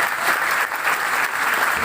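Steady, dense applause from an audience at a business development training session, filling the whole short stretch at an even level with no pauses.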